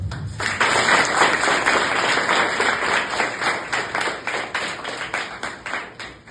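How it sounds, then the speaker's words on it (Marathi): Students at a high school event clap loudly together, a dense and sustained burst that later thins into separate, rhythmic hand claps. "मुलांना तुमच्याकडे एक जोरात टाळ्या वाजवा"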